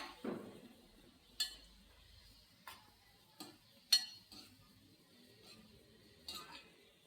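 Fried onion is lifted out of a pan with a metal utensil, giving soft, sparse clinks and taps spaced a second or so apart in a quiet kitchen.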